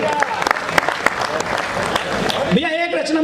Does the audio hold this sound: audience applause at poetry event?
yes